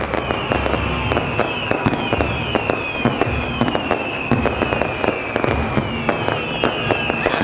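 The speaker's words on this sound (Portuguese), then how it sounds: "Ao final, o show de fogos abrilhantaram ainda mais a apresentação." Fireworks show over the city of Foz at a Christmas event, loud repeated bangs and crackling bursts at a steady pace, with whistling rockets streaking under a continuous crowd murmur.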